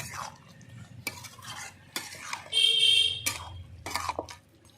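A spoon stirs a vegetarian papaya and soybean curry as coriander leaves are mixed in, giving a few separate scraping strokes over a faint simmer, plus a brief high-pitched tone partway through.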